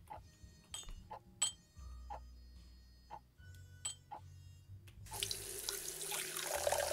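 Water is poured in during the video game Size Matters: a few sharp clicks and taps, then a steady, fairly loud rush of running water for the last couple of seconds, with no talk.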